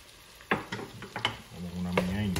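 Olives and capers hit a hot pan with sofrito, cilantro and recao for a fried-fish mojito sauce. It gives a few clattery drops and stirs, then settles into a steady close sizzle.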